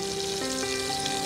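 Whole spices such as cinnamon, cloves and cardamom fry in hot oil, giving a steady, close, broadband sizzle that holds even throughout with no voices.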